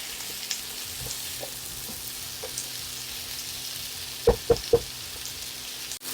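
Potatoes and carrots frying in a pot, a soft, steady sizzle with a few light stirs and a quick run of three sharp knocks against the pot.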